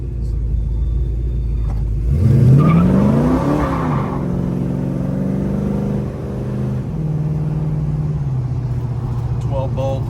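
A restored 1968 Chevelle SS 396 with its numbers-matching big-block V8 rumbles loudly, then pulls away hard in a rising acceleration through the gears before settling into a steady cruise, with a voice talking over it.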